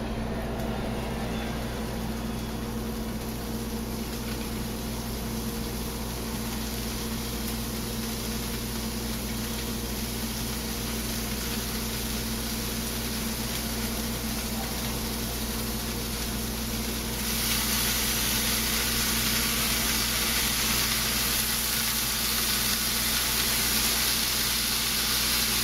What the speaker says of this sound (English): We're going to lightly fry this.